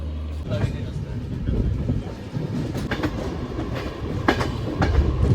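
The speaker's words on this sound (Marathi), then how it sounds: "आता ट्रेन स्लो झाली" A passenger train on the Mumbai to Nagpur route rumbles and clatters over the rails as it slows, with rhythmic clickety-clack from inside a coach and people talking nearby.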